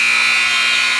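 A basketball shot clock buzzer at a girls' high school game sounds one loud, steady electronic tone lasting just over a second.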